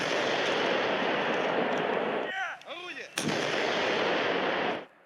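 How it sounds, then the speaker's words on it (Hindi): Heavy artillery cannon fire at a Russia-Belarus military drill, loud sustained booming roar that drops away briefly, then a sharp blast resumes the barrage before it cuts off. "तोपों से निकले गोलों की आवाज ने सन्नाटे में उथल पुथल मचा दी।"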